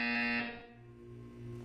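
A loud, buzzy electronic buzzer in the Portal 2 video game sounds for about half a second, then drops to a softer, lower tonal hum that lingers to the end.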